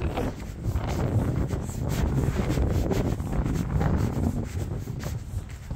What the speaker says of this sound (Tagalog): medyo ngayon mahangin tsaka malamig